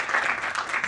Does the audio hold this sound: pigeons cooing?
no